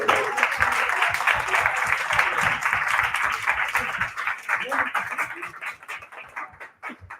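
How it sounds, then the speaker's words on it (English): An audience applauds a quiz winner, a dense patter of many hands clapping that runs steadily for most of the stretch and then thins and tapers away toward the end. "we can give you a clap here in front"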